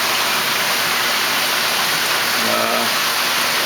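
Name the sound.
drum filter rinsing out in a home-built aquaculture system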